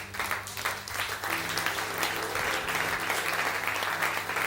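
A church congregation at a Sunday service applauding, steady sustained clapping from many hands filling the room, with a low held tone underneath.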